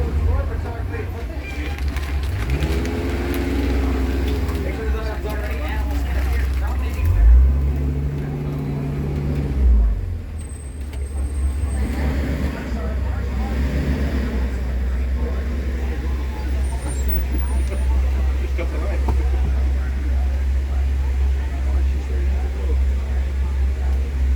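A safari truck drives through Disney's Animal Kingdom on the Kilimanjaro Safaris ride, its engine a steady low rumble that runs the whole way under a guide's ongoing spoken narration.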